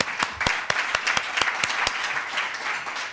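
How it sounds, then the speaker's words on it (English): Audience applause at a foundation convening honoring a researcher, with a few sharp, distinct claps standing out near the front over a dense, steady round of clapping from the crowd. "Let's give her another round of applause."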